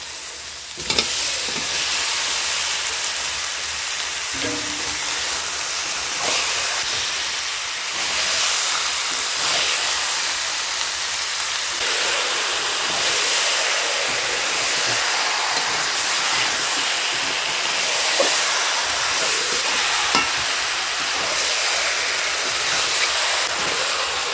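Chicken pieces added to a pan of hot oil and fried spice paste hiss and sizzle loudly and steadily, with a few stirring scrapes and knocks close by.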